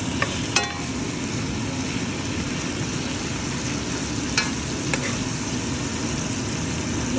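Beef and other meat frying in a pan with little oil, a steady soft sizzle throughout with a few sharp clicks of a utensil stirring.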